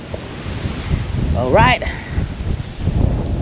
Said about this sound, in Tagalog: Sarap ng hangin, ang lamig.